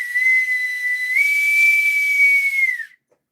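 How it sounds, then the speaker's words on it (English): A boatswain's whistle blows one long, steady, shrill tone for about three seconds, rising slightly in pitch partway through, then trailing off into silence. The blast is close and fairly loud. "I just give you my boatswain's whistle"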